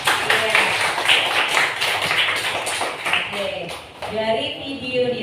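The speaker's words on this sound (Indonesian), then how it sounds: "Oke, tepuk tangan." A class of fourth-grade primary school children claps hands together in a dense, steady patter that lasts throughout, with voices chattering over it.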